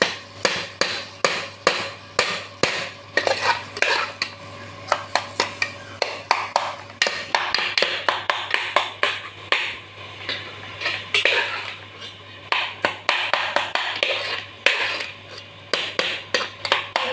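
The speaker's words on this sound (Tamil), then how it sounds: "எண்ணெய் நல்லா சூடாகட்டும் ஃப்ரெண்ட்ஸ். வதக்கிடுவோம்." Onions sautéing in hot oil for fish kuzhambu, stirred hard with a metal spoon that clanks and scrapes against the pan in quick, repeated bursts over a low frying hiss, close up and without talk.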